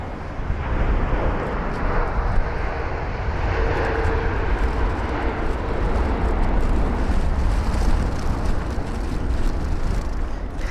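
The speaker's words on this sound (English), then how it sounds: "That was sort of easing the aircraft into the runway" A brand-new Airbus A350 airliner lands on the runway, a steady, loud roar of jet engines and rushing air that holds for several seconds from a moderate distance.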